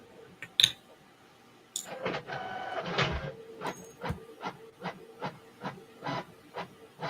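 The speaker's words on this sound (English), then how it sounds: "Oh, Okay, I hear a printer." An office printer runs through a print job, with a sharp click, then a burst of mechanical whirring and a steady series of rhythmic feed strokes, fairly close and alone.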